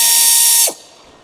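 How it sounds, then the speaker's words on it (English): A pneumatic ratchet with an 18mm short socket spins a nut loose on a Ford Fusion's stabilizer link, giving a loud, steady high-pitched air-driven whir that stops abruptly after about two-thirds of a second, alone with no talk. "Using an 18mm short socket with the pneumatic ratchet,"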